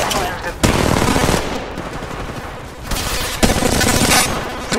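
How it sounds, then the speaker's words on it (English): Automatic weapons fire in the Apex Legends Mobile battle royale game, sounding as loud bursts of rapid gunshots in several sustained volleys with short lulls between them, close and dense, with some speech mixed in. "Shooting at me! Shots fired at me."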